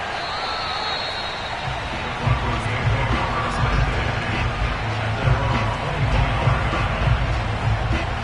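Broad stadium crowd roar in an American football video game during a Denver game's final quarter, a steady, dense wash of cheering that rises slightly after a couple of seconds and holds loud to the end.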